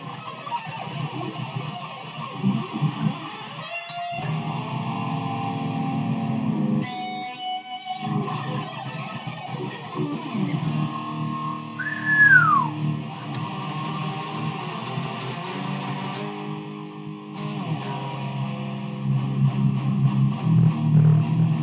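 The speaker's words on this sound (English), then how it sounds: "if you don't have a whammy bar like I do on this one, you can string bend." Electric guitar played through effects, with held, sustained notes and a bent note sliding its pitch upward and back, ringing at moderate loudness over a distorted background with no talking.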